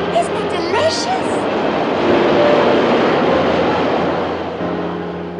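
A subway train rumbles past at a New York station, a loud, steady roar that swells in the middle and then eases, with brief high squeals near the start and a voice speaking over it.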